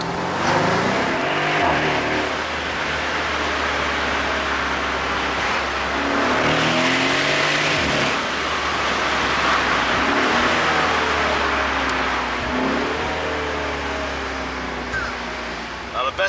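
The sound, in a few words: 2013 Mercedes-Benz SL63 AMG twin turbo V8 accelerating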